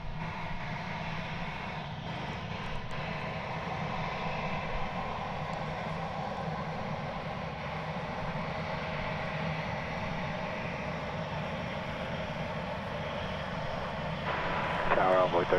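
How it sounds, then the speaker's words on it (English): A Delta airliner arriving at DFW Airport from Salt Lake City makes a soft, steady distant engine drone, heard under intermittent talk and radio chatter. "Let's say hello to this Delta flight coming in from Salt Lake City, shall we?"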